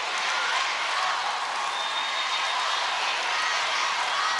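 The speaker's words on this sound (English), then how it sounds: "As the crowd joins in, filling in the big dome here" A dome arena crowd at a women's volleyball playoff match cheers and applauds, a steady, dense roar of hands and voices with no breaks, sounding large and diffuse.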